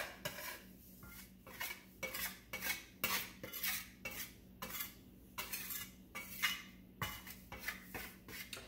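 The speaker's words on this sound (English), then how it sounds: "It may sound like I'm paint scraping, but that's just the way that spatula sounds." Repeated scraping of a metal spatula across a hard countertop, rasping strokes coming in a steady rhythm, close and harsh against a faint background hum.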